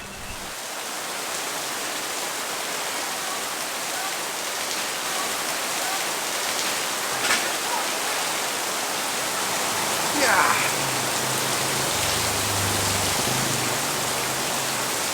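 Steady morning rain falls in Chanthaburi, Thailand, as a dense, continuous hiss that stays loud and even throughout, with a few faint low tones near the end.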